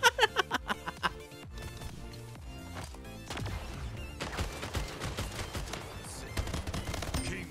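Sniper rifle fire in the video game Splitgate, a burst of sharp rhythmic shots at the start followed by dense, busy game noise and music that continues throughout.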